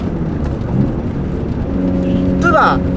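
A cheap manual Mitsubishi Evolution downshifts through a bend with a blip of throttle to match revs; the steady engine drone swells into a quick rising rev near the end, close and loud inside the cabin.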